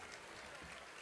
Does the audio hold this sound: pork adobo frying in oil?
no